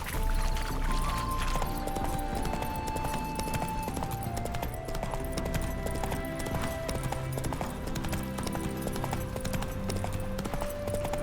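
A horse's hooves clip-clop steadily and loudly in The Witcher 3 video game, a continuous rhythmic walking pace with faint tonal game sounds beneath and no talk.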